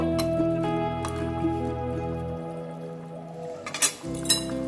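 Fried lentil-cake pieces (dhoka) drop into a simmering potato curry, giving soft wet plops and light clinks against the pot, with faint bubbling beneath and a brief louder splash near the end.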